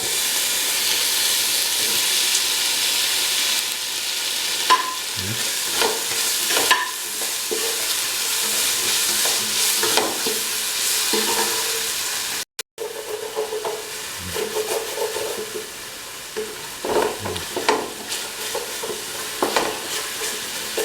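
Tomato frying in a pan for a cream chicken stew, with a continuous bright sizzle and hiss close by, broken by repeated spatula scrapes and stirring clatters throughout.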